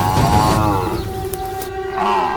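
A young buffalo under attack by a lion lets out a loud, drawn-out bellowing scream with a wavering, tonal cry that sags and rises over a couple of seconds, close and raw.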